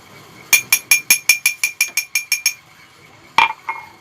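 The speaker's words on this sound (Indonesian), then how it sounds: "Bunyi gelas sangat jelas." A drinking glass is struck repeatedly with a spoon, about a dozen quick bright clinks in an even rhythm with short ringing tails, then a pause and a couple more louder taps, close and alone in a quiet room.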